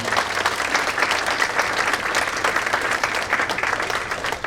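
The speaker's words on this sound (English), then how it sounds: "A round of applause, please" Sustained, dense applause from a luncheon audience at a college alumni awards event, steady and fairly loud throughout with no talking.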